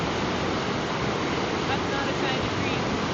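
A rushing creek with boulders tumbling along its bed, a loud, dense, unbroken roar of water that stays constant and close, with no clear separate knocks standing out.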